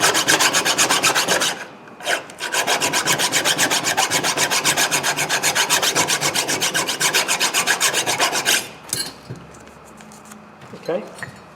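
Brisk back-and-forth scrubbing of rusty rear brake hardware on a 2007 Toyota Camry, a loud steady rasp of rapid strokes that pauses briefly near two seconds and stops before nine, followed by quieter handling noises.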